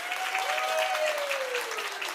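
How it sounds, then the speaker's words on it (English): Crowd applause at a British Open event honouring the 57 kg women's podium finishers, steady clapping from a hall audience, with a faint tone sliding downward through it. "round of applause to our podium finishers for the 57 kilo class."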